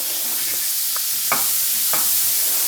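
Butter melting in a very hot pan gives a steady, loud broadband sizzle, with a few brief crackles and pops, and no voices.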